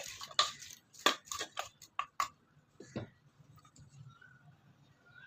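Jaggery and water are stirred in a pot for irumban puli pickle, with a quick run of sharp clinks and taps of a utensil against the vessel, then a quieter scraping stir as it fades, and nobody speaking.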